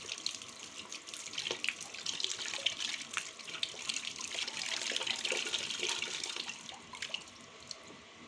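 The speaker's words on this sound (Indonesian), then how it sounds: "terus bilas dengan air bersih mengalir dan keringkan dengan menggunakan tisu atau kain bersih" Hands rinsed under a running tap during a handwashing demonstration: a steady, close splash of water hitting skin and sink, continuous for the whole stretch with no voices.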